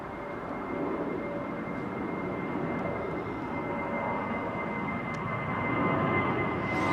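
An Aer Lingus jet airliner at London Heathrow sends out a steady, rumbling engine roar at moderate distance, broad and continuous, swelling slightly toward the end.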